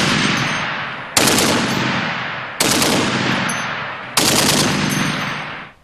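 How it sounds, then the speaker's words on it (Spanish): A 12.7 heavy machine gun fires, producing four loud, sharp blasts at roughly one-and-a-half-second intervals, each leaving a long, rumbling decay that trails off before the next shot. "Actualmente es la ametralladora más temida en el campo de batalla."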